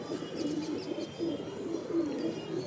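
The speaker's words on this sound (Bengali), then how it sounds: "এই পায়রার হেডসেপ দেখুন না ফিমেল পায়রা মাদি পায়রা" Soft, low coos from a female pigeon repeat in a gentle rhythm close by, with a faint background hiss and no talking.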